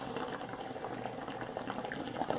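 Hookah water bubbling steadily as someone smokes a mix of Brambleberry and cane mint tobacco, a continuous close gurgle with no talking.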